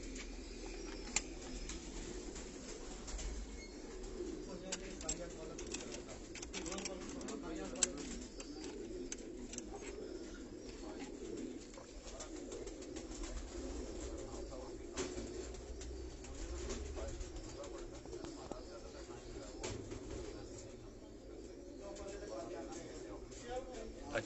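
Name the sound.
pigeons cooing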